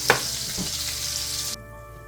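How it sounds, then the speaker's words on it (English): Unsalted butter melts in a skillet with a bright steady sizzle, broken by a light stir or scrape near the start, then cuts off abruptly to near silence. "unsalted butter in my skillet. And we're going to let that melt real quick."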